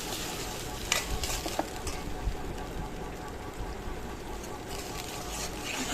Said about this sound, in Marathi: छान परतून घ्यायचं आहे अशा प्रकारे पूर्ण।